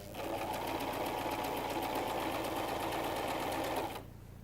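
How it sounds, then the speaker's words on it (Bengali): A sewing machine runs a steady line of stitching along a salwar, a fast, even mechanical whirr close by that stops abruptly near the end, leaving a faint background hum. "লাইন বরাবর আমরা সেলাই করে নিচ্ছি।"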